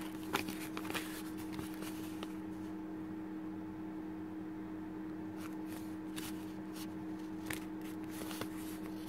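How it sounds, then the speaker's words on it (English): A plastic New Zealand banknote is crumpled up close, giving crisp crinkling and rustling bursts over a steady low electrical hum. "It's very hard to crumple this money up because it's actually made of plastic."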